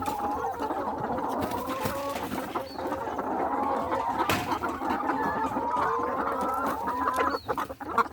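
Chickens in a coop with a first batch of about 100 laying hens, clucking continuously and overlapping in a busy chorus, with no talk.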